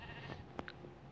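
A goat bleats in the Minecraft video game, a short nasal bleat heard once over a quiet, steady background with no talking.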